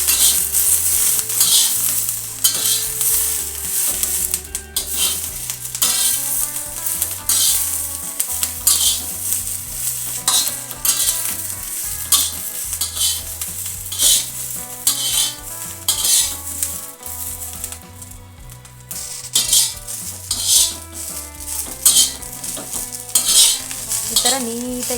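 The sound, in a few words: green chillies frying in cooking oil, stirred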